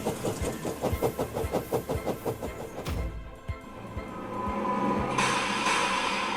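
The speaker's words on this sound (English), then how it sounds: "Did I just see a runaway train of oil drums go by?" A rapid, rhythmic clatter of a runaway train of oil drum wagons rattles past, then gives way to a rumbling hiss and rising rush of noise.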